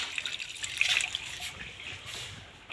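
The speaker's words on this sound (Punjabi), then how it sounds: "ਰਤਨ ਪਾਣੀ ਡੋਲੀ ਜਾਂਦਾ" Water pours out in a steady light trickle, close and fairly quiet, with no talk over it.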